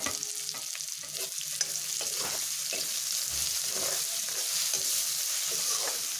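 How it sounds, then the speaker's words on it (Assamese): Onion, ginger and garlic frying in a pan until golden, with a steady close sizzle and repeated scraping stirs throughout. "সোণালী ৰং অহালৈকে মই ভাজি ল'ম।"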